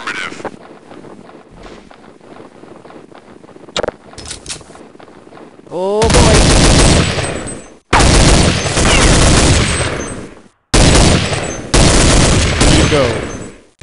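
Bursts of automatic gunfire in Counter-Strike 1.6 on the csde_recon map come in three long, loud volleys with short gaps between them, following a quieter opening with scattered sounds and faint talk.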